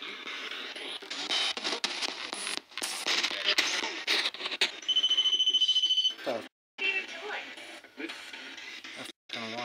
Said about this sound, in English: That f***ing alarm just went off on the bed.